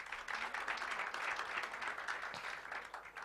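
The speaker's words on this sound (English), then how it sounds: "Let's give them a big round of applause." Applause for the MDDA at the launch of new Mahikeng FM broadcasting studios, a steady wash of many hands clapping at moderate distance, fairly faint and sustained throughout with no voices over it.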